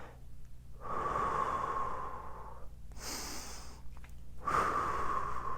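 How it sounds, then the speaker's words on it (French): Deep, slow breathing done as a relaxation exercise: three close, airy breaths, with long hissing inhales and exhales separated by short pauses and no talking. "des respirations qu'on va appeler profondes et qui aident à détendre"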